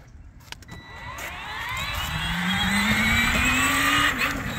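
A Power Wheels ride-on toy car running on swapped-in DeWalt lithium batteries, its electric motor whining and rising steadily in pitch as it speeds up, close and continuous.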